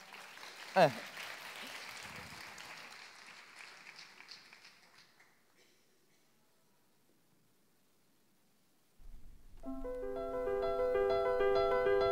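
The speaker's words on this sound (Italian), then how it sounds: "Oh, applauso." Applause from an audience at a 2015 Lions talent singing contest swells and then fades to near silence, before loud piano music begins.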